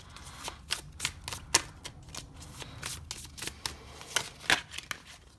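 Tarot cards being shuffled in steady bursts of crisp, papery riffles and flicks, close and fairly quiet, with no talking.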